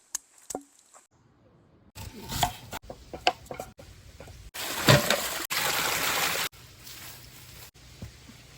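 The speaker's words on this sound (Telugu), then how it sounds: "అల్లం పేస్ట్ కి అల్లం తెల్లగడ్డ రోట్లో వేసుకొని నూరుకుందాం." Ginger and garlic pounded in a stone mortar for a mutton dum biryani paste, heard as a run of repeated thuds and grinding crunches of varying loudness, close by with no talk.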